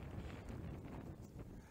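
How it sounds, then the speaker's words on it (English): Low, blustery wind buffets the microphone on a mountainside above Derwentwater, a steady rumbling whoosh with faint rustling, quiet overall and with no voices. "It's a little bit windy, but it's lovely."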